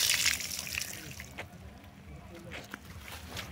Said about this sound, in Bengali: একটুখানি জালটা হালকা করে ধুয়ে নে।